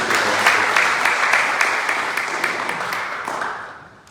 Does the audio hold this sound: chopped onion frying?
no